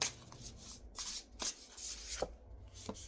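Tarot cards are shuffled by hand, close by and soft, in several quick riffling bursts separated by short gaps.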